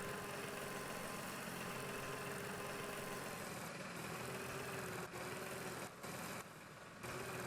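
A farm tractor engine in Farm Expert 2017 drones at a constant mid-pitched hum, fairly quiet and steady, with a few brief dips near the end and no talk over it.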